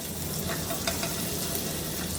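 Butter melts and sizzles in a hot frying pan while a sandwich for Philly cheesesteak is being made, giving a steady, close, fine crackling hiss with a few soft pops and no talking.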